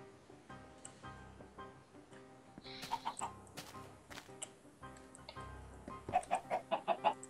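Repeated clucking of Minecraft chickens inside a house, with a few sharper squawks toward the end, set over steady background music.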